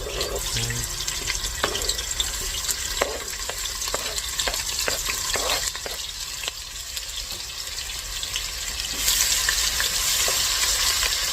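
Garlic fries and is stirred in a pan, a steady sizzle with scattered clicks of a utensil against the pan, plus a stretch of running tap water, close and without talk.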